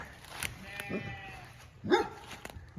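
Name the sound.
hair sheep bleating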